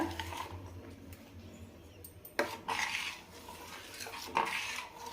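Thick morkali batter being stirred in a pan over a medium flame, with soft scraping and a few sharp metallic knocks of the ladle against the pan close up, no talking.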